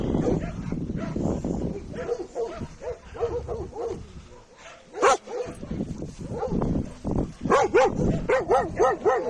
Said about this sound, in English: These dogs, Yanni Sphinx, were being trained for hunting, for guarding.